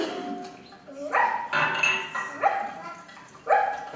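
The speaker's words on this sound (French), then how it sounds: "Allez, le chien, rapporte!" A cartoon dog barks in an animated film: four or five sharp, yappy barks spaced about a second apart, close and clear over a quiet background.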